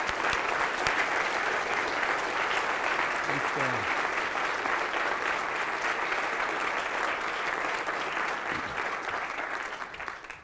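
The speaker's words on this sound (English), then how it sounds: "we should all give him a round of applause as our thank you" An audience at the ICFP programming-languages conference breaks into sustained, dense applause, holding steady for about ten seconds before tapering off, with a brief spoken thank-you at the start.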